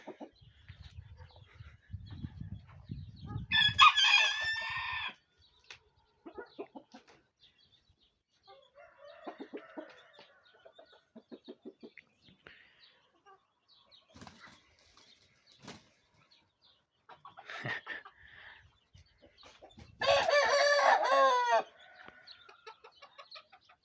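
A rooster crows twice, loud and close, separated by quieter clucking, scattered small noises and faint voices in the background.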